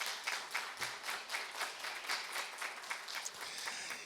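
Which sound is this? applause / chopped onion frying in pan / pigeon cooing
applause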